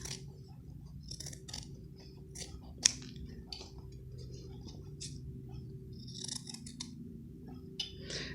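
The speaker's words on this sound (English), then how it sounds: "So I'm trimming off maybe 1/8 of an inch" Scissors trim a thin edge off fusible interfacing fabric, giving a quiet series of crisp snips in irregular bursts, close and alone over a low steady room hum.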